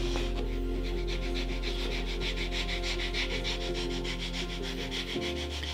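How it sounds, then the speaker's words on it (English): Medium grit sandpaper rubs along the edge of leather for a handmade slim wallet, making close, fast back-and-forth scratchy strokes in an even rhythm over a low steady hum. "Just starting with the medium grit sandpaper."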